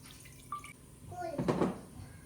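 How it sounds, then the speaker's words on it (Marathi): Water poured into a pan for making tea in a home kitchen, a short splashing pour of about half a second, moderately loud with faint background noise. "चहासाठी टाकते थोडंसं पाणी."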